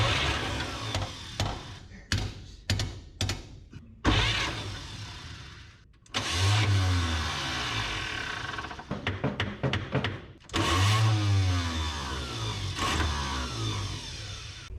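A 1951 Chevy 3100 pickup with a failing starter, cranked in short bursts: several quick choppy taps, then two longer steady grinding cranks with whining starter and pulsing engine turnover, close and loud without catching.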